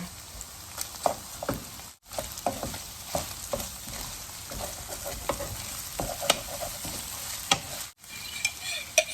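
Potatoes and bacon ham are stir-fried in a pan, giving a soft steady sizzle with repeated scraping and clinking stirs at an irregular rhythm.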